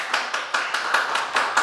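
Sharp, evenly spaced claps, about eight in quick rhythm, close and bright, like a single pair of hands clapping, during a Sunday church service.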